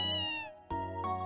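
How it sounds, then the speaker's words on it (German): A cat in the farming video game Story of Seasons: A Wonderful Life gives three loud, clear meows in quick succession, the last one rising, with no talk over them. "Und guck dir die Katze an."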